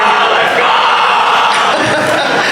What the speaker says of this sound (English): IBall with the loudest cheering group over here